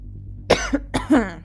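Two close, sharp coughs from a single person, each a quick double burst, loud against a quiet room.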